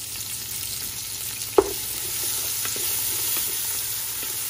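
Garlic and onion sautéing in vegetable oil in a pan, a steady close sizzle with one brief clatter of a utensil near the start and soft stirring sounds, no talking.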